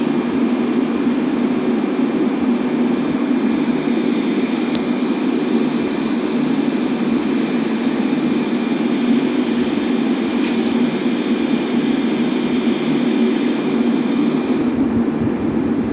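The steady, loud roar of a Boeing 737-800 jet landing fills the whole stretch, broadband and unbroken, heard from inside the aircraft.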